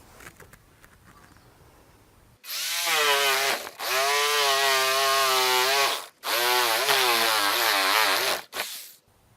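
An angle grinder cuts into BlueBoard fiber cement cladding in loud, close whining bursts, three cuts of about one to two seconds separated by brief pauses, with the motor pitch dipping as the blade bites.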